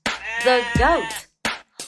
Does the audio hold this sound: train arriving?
no